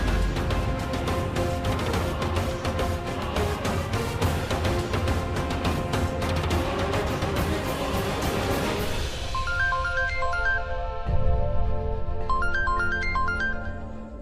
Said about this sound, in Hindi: संजना का फोन।